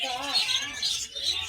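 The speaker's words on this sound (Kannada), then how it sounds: "ನೀವು ನೋಡ್ತಾ ಇರ್ಬೋದು ಎಷ್ಟೊಂದು ಪಕ್ಷಿಗಳು ಇಲ್ಲಿದೆ." Many birds at a bird park in Mysore chirp and tweet in a busy, continuous chorus, fairly faint and mixed under a person talking.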